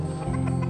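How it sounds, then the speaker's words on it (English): Roosters and other chickens in a barn give short clucking calls while being fed and watered, fairly close and steady over a brief moment. "looking after the roosters"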